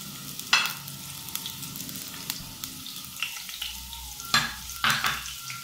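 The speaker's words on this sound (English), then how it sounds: "Next up, I'm going to add in my onions." Onions frying in hot oil in a saucepan (sufuria), a steady sizzle with scattered louder crackles and a few stirring clatters from the pan, close and without talk.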